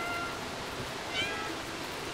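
A cat meows faintly in the Stray video game, a single brief call near the middle over a steady hiss of game ambience.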